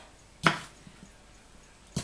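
A kitchen knife chops vegetables into small pieces for enchiladas, landing two sharp, close board strikes about a second and a half apart, with faint knocks between.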